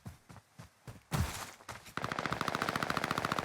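Machine gun fire in a Call of Duty Warzone rooftop gunfight: a few separate shots with echo, then a dense, rapid sustained burst of automatic fire, loud and close.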